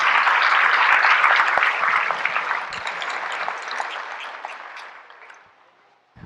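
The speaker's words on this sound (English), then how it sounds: "I want to applaud all of you for doing that" A large crowd in a packed mosque applauds loudly, the clapping strong at first and then gradually fading away to near silence at the end.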